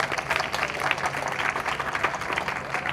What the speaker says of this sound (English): So we need to give a round of applause to all our sponsors.